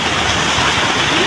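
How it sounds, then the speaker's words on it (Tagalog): Heavy rain pours down in a loud, continuous roar, a dense hiss with no break and no voices over it. "Lumakas na naman ang ulan, o, di ba? Yan, lakas."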